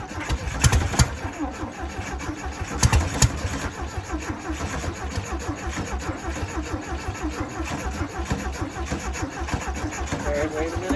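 A 1968 VW Beetle engine being started after 35 years, likely with a gummed-up carburetor, cranks and runs roughly in close, uneven low chugging pulses for the whole stretch, with a few louder bursts early on.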